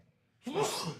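A single short, breathy sneeze, quiet and close, bursting out after a moment of near silence.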